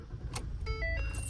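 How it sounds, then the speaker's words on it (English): A 650-horsepower Ford F-150 pickup truck engine cranks briefly and catches, settling into a low rumbling idle, with a faint jingle of keys near the start. "Let's give you guys a little startup and what she sounds like."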